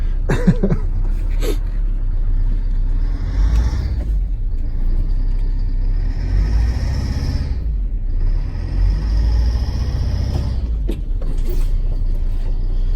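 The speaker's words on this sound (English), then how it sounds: "Starts right up. Tiny bit of hunt to it there for a few seconds." A bus engine rumbles at idle after starting, its low, steady drone swelling and dipping slightly as the idle hunts, with occasional mechanical clatter nearby.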